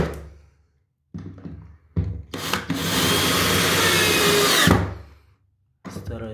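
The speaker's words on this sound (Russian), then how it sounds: "Сейчас шуруповертом и крестовой битой" A cordless screwdriver with a Phillips bit drives screws into a squeaky floor, with a few short whirring bursts and then one sustained run of about two seconds as the screw bites into wood.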